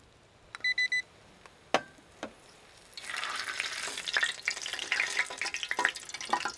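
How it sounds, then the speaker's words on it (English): Potato dropped into hot frying oil over a camp fire, a few sharp clicks and beeps first, then a loud crackling sizzle that bursts up and keeps bubbling steadily, with no talk. "I've just dropped one in just to actually cool the oil down"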